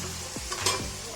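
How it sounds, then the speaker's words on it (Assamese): Potatoes frying in hot oil for a duck curry, a steady close sizzle with a couple of brief stirring scrapes, no voices. "আমাৰ আলুখিনি ধুনীয়াকৈ এনেকৈ ভাজা হৈ গৈছে।"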